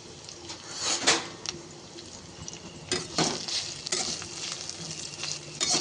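Chopped onion, garlic and green chilli fry in a pan with tempering spices, a constant close sizzle punctuated by several louder scraping stirs of a spatula, with no talking.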